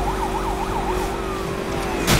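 A police car siren in the video game Need for Speed wails in a rapid up-down yelp over a steady engine drone, then settles into a long tone before a sudden burst of noise.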